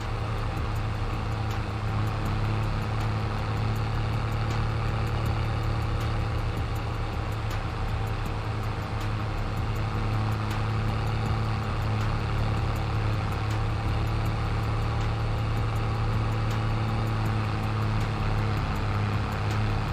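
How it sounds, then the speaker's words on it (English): A modded tractor engine idles steadily in a farming simulator game, a loud, continuous low drone with a constant hum and no pauses, heard alone throughout. "A wicked tractor, it's just too loud"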